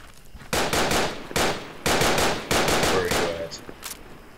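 Loud automatic rifle bursts from Project Reality's Battle of Ia Drang, with four or five long, close, sustained volleys separated by brief pauses and ending in a few single shots.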